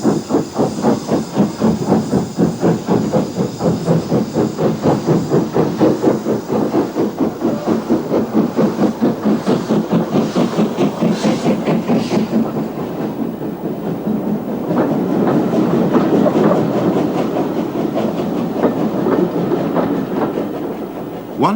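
A preserved L.M.S. steam locomotive on the Swanage line at Yuletide, working hard nearby with rapid rhythmic exhaust beats and hissing steam, easing to a softer rolling rumble toward the end.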